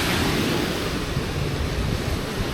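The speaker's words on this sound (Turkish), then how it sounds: "Bugün şansımıza biraz hava rüzgarlı ve deniz dalgalı." Wind blows over a choppy sea on a blustery day, a continuous, loud rushing roar with microphone buffeting and no voices.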